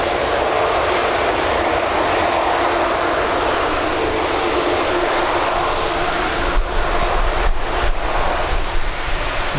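An Emirates airliner taxis at Birmingham Airport, its jet engines giving a loud, steady broadband roar that holds evenly, with a deeper low rumble swelling toward the end.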